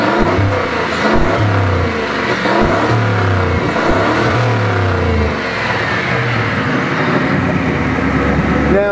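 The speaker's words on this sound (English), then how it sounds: "We'll give it a little rev" A loud Ford Crown Victoria 4.6 V8 engine revs up and down repeatedly, its pitch sweeping with each throttle blip, close by and continuous, with a slight stumble.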